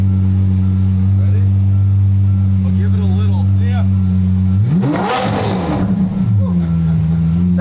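A car's engine rises into a loud half-throttle rev, swelling for a couple of seconds before settling back to a steady idle hum, with people talking over the drone before it.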